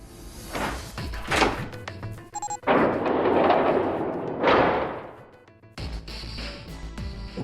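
A heavy door opening in the video game Nine Hours, Nine Persons, Nine Doors: loud booming thuds and a long grinding, rumbling surge that peaks, fades, then stops abruptly before a lower rumble resumes.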